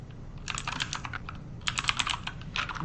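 Keys clatter on a computer keyboard as a search is typed into a real estate app, two quick close bursts of rapid clicking separated by a short pause, with no speech over it.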